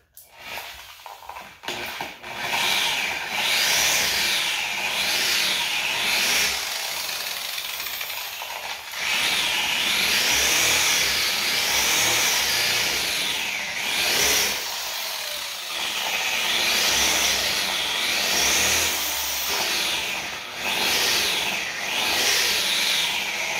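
A variable speed polisher works on a hazy composite headlight, giving a loud, steady whirring hiss with rhythmic rising and falling sweeps and a few short pauses as the pad moves across the lens.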